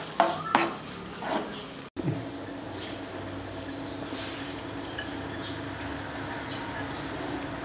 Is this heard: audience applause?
no